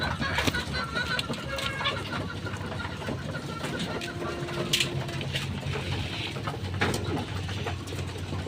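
Racing pigeons coo in a noisy coop, low throaty calls mixed into a constant background hiss and scattered clicks and knocks, moderately close and continuous.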